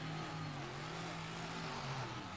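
Race cars launch and accelerate down a straightaway in the final round of an Indy Madness event in Truckton, Colorado, their engines a steady, droning roar at moderate distance, running continuously without pause.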